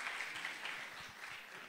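Quiet, steady applause from an audience at a French-language competition for learners in Iraq, encouraging a contestant; soft, even clapping throughout with no voices.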